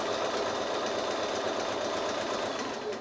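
A sewing machine runs steadily through free-motion quilting on a quilt, its dense, even whir continuing unbroken for the whole stretch with no voices.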